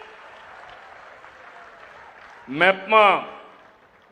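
A crowd applauding at a public meeting with government officials on stage, steady clapping that carries on for a few seconds before a voice speaks briefly over it.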